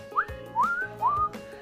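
A guinea pig gives three short rising whistles, evenly spaced and fairly clear against a faint steady background.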